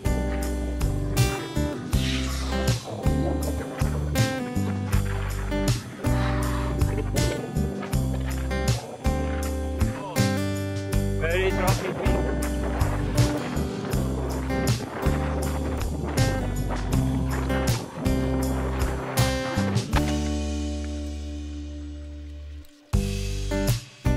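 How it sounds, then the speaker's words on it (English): Strong wind buffets a microphone during a road bike ride. A loud, continuous roar rumbles and gusts throughout and drops off sharply near the end. "Very strong wind."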